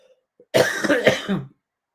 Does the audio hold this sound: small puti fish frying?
no